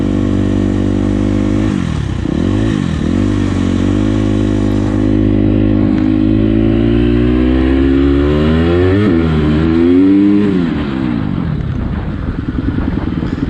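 Several motorcycles ridden by children, engines revving loudly with pitch repeatedly rising and falling as they accelerate and ease off, a continuous close roar with no voices.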